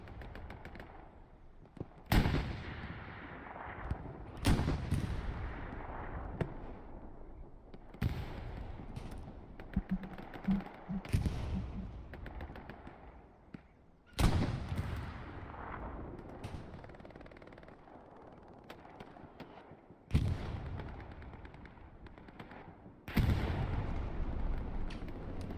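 Heavy gunfire and rocket blasts from a WWII-style Utah Beach online match, with repeated sharp loud bangs at irregular intervals over continuous battlefield rumble and crackle.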